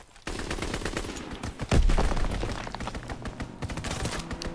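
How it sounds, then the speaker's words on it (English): Aircraft strafing-run gunfire in a Call of Duty WWII match, rapid dense bursts of shots with a heavy booming impact midway, loud and continuous throughout. "Strafing run inbound."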